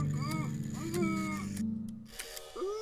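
Cartoonish cat meows from the video game Creaks, several rising and falling calls spread across the moment, moderately loud over a steady low musical drone.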